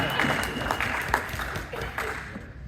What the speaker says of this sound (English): give your government a round of applause